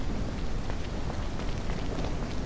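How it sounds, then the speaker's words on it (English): Rain in a zombie survival video game, a steady dense hiss of heavy downpour that fills the whole stretch evenly, with no voices over it. "Damn, I can't see anything with this friggin' rain."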